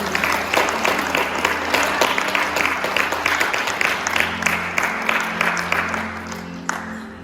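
A congregation in a church service breaks into clapping as a welcome, a loud rhythmic patter of many hands that gradually fades near the end.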